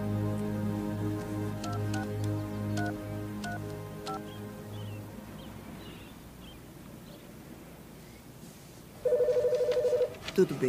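Tonal telephone rings repeat in short regular bursts, fairly loud and close at first, then give way to quieter background noise before a brief steady electronic beep near the end.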